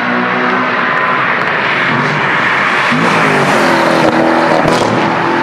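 A loud Chevrolet Corvette engine with an exhaust made as loud as possible roars steadily while the clutch is slowly let out. The rough, rising revs sound close and continuous, with no voices.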